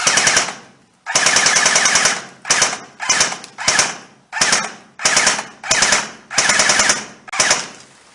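An airsoft submachine gun fires in a series of short full-auto bursts, each a sharp, fast mechanical rattle, about nine bursts with brief silences between them, close and loud.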